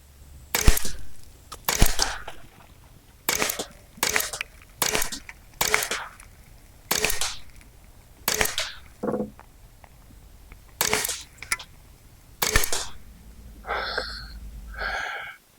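Semi-automatic shots from an LCS SK-19 PCP air rifle with an FX SmoothTwist barrel, about a dozen sharp, evenly spaced cracks close by, followed by brief faint metallic rattles at the end.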